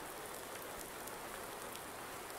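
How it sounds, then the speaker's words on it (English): Steady rain falling in the Farming Simulator 19 video game on the Felsbrunn map, a continuous even hiss of drops with no talk. "Oh, look, the rain doesn't fall under the bridge."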